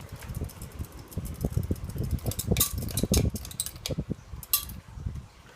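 A Hunter Comfort Breeze ceiling fan whirs and rattles softly as it winds down after being switched off, with faint clicking, grinding and swirling mechanical noise fluctuating unevenly throughout.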